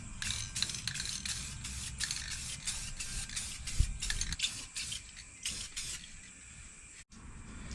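A spray gun lays a light dusting coat of paint on the rusted rocker panels of a Ford Super Duty truck, a steady close hiss broken by short pulses and a few brief pauses.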